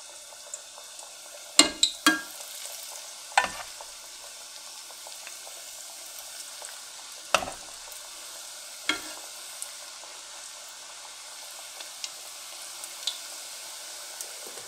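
Coconut-coated chicken nuggets frying in oil in a pan, a soft steady sizzle with occasional sharp crackles and utensil knocks as pieces are turned, close and quiet.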